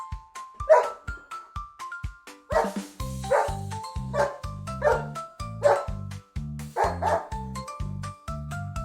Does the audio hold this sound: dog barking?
yes